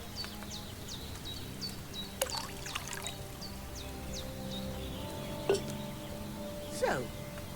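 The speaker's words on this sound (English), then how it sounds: "yes, pour wine." Wine is poured into a cauldron in the video game Kingdom Come Deliverance 2, a soft, steady trickle under a quiet outdoor ambience with a few faint bird chirps and occasional light knocks.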